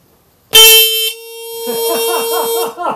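Car horn of a Citroën Méhari under restoration, blaring loud and steady at close range in one long continuous blast with a strong tonal buzz that wavers slightly toward the end.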